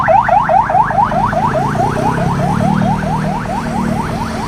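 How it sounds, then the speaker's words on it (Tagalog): Ambulance siren sounding fast repeated up-down wails, loud and steady over low traffic rumble, passing through a traffic jam at the scene of a collision between an Nmax scooter and a Super Grandia van. "Ambulance."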